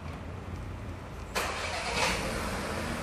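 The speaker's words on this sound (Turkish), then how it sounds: "Çalıştırın aracı." A 2021 Volkswagen Polo cranks and starts partway through, its engine catching and settling into a steady, close idle over background hum.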